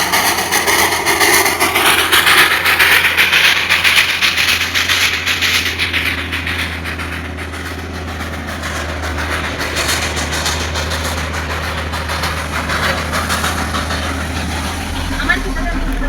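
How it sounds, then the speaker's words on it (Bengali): A small Darjeeling toy train engine rumbles and hisses close by as it passes near Batasia Loop, a loud continuous drone with a voice speaking over it. "আরও একটি টয় ট্রেনটি আসছে।"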